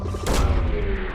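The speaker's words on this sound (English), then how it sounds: "Launching probe." A probe launches in Mass Effect 2, a sudden punchy thump-like burst that flares briefly, then settles into a low rumbling hum with a faint electronic tone.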